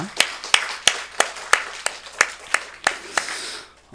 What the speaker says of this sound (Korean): 우리 박수로 축복을 하겠습니다